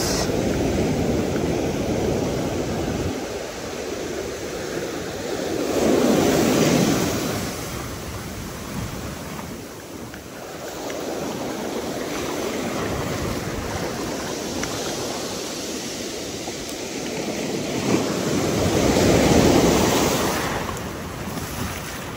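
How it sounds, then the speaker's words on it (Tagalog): Strong sea waves breaking on a rainy, rough-water shore where someone is fishing, surging in slow swells that rise and fall over wind noise, loud and continuous with no voices. "Malakas po dito ang alon, hindi ko kaya."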